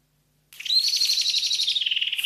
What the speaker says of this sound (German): Das war die Amsel aus dem Proton-Podcast.